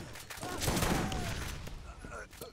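A short burst of rapid gunfire from the shooter video game Borderlands, a quick fusillade of shots at moderate level, with a voice briefly under it.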